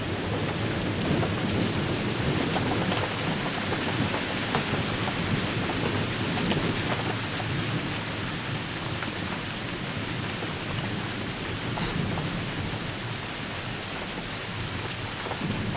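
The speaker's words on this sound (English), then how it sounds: "this is the perfect, you know, calm before the real storm" Steady rain falls outdoors during a thunderstorm, a dense and constant hiss with low rumbling underneath and occasional sharper drops, heard alone at moderate level with no voices.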